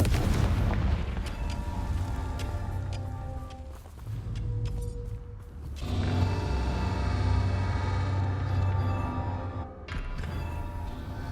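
Confringo spell explosions in Hogwarts Legacy: heavy booming blasts over a continuous loud, deep rumble, with a couple of brief dips between bursts.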